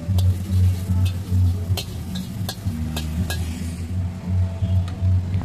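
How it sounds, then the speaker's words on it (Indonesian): Eggs sizzle and get stirred in a hot pan while making Singapore-style fried rice vermicelli with shrimp, a steady low frying hiss broken by sharp scraping and tapping strokes of a utensil, close and continuous. "Lalu kita buat orak-arik atau scramble egg."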